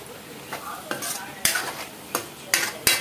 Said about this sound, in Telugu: ఇది కూడా కలిపేసేసుకుందాము